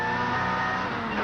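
Onboard from Colin Bond's touring car chasing Glenn Seaton at Symmons Plains in the 1989 ATCC, the engine drones loud and steady at high revs, a close, constant roar with a faint rising pitch.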